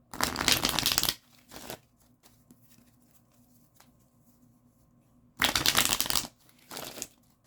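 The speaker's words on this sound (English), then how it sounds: "Shuffle up these decks, and then we'll get into card 3." Two loud bursts of tarot card shuffling, each about a second long, with softer handling and riffling sounds in between.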